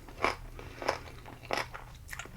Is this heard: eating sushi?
yes